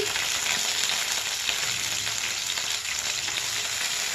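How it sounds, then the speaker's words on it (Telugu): Green chillies, onions and green peas frying in a pan make a loud, steady, close sizzle with faint stirring, uninterrupted and without any voices. "పచ్చిమిర్చి, ఆనియన్స్ దోరగా వేగాలి ఫ్రెండ్స్. ఒక 1/2 కప్పు వేసుకోండి బఠానీ, గ్రీన్ బఠానీ."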